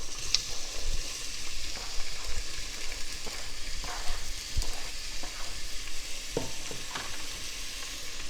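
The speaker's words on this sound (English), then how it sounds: "Then I'm going to put the 3 medium cut onions into the pan. You can already hear that sizzling." Three medium-cut onions sizzle and fry in a pan for a homemade chicken curry, with a steady close crackling hiss and occasional stirring scrapes throughout.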